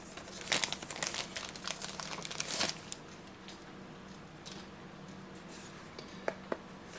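Plastic wrap around a Western Digital 5TB portable USB hard drive crinkles and crackles in close, quick bursts as it is handled and pulled open, then settles into quieter, sparse rustles.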